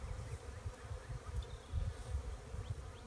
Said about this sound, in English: And here's the hive, the bees that we got out of the hive.